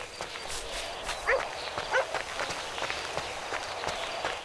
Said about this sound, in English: Man, that's a cool-ass dog you got, homie.